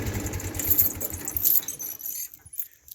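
The three-cylinder gas engine of a 1974 Ford 3000 tractor runs with a fast, even chugging putter up close, then fades quickly away to near quiet within seconds.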